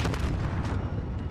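A grenade blast in a battle royale shooter video game, a loud rumbling explosion with continuous booming debris noise through the short clip.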